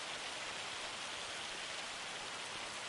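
Steady rain from the Farming Simulator 25 video game pours as a dense, even hiss across the whole stretch, constant and fairly loud with no talk over it.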